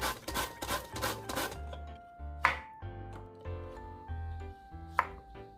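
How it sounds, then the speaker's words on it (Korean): Zucchini julienned on a mandoline slicer: a fast run of rhythmic crisp slicing strokes, then a pause broken by two sharp clacks, close and fairly quiet with no talk. "애호박은 채칼에 밀어 예쁘고 고르게 채를 썰어주세요."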